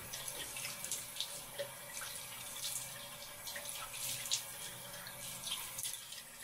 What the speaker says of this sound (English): I'm going to rinse my face off like usual